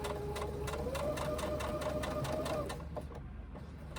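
A sewing machine fitted with a walking foot stitches through vinyl for a sling bag, running in a fast, even rhythm close by for about three seconds before stopping.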